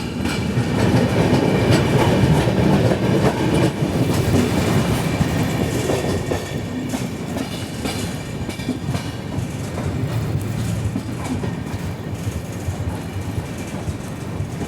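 The Ajanta Express rolls into Selu station, a steady rail rumble with clickety-clack from the wagons that eases slightly in loudness partway through, with no talk.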